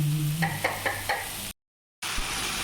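Spice paste frying in a pan while being stirred for a Bangladeshi dried-fish curry with potato and eggplant, a steady close sizzle with a few scraping stir strokes, cut by a brief dropout of silence before the frying noise returns.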